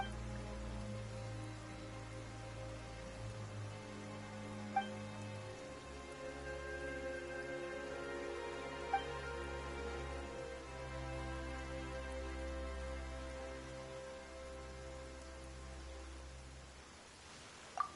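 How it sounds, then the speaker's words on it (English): Rain falls in the fantasy game Genshin Impact, a soft, steady wash of drops with a faint low hum of background music underneath, continuous and fairly quiet throughout. "Why is it raining all of a sudden?"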